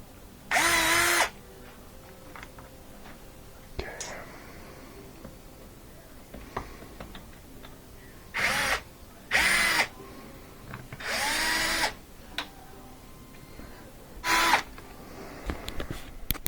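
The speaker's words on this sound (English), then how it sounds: "I'm going to put a hole here that goes through the metal and then put a set screw to hold it" Power drill boring a hole through the metal of a Miele dishwasher door, running in several short loud bursts of about a second each with quiet pauses between.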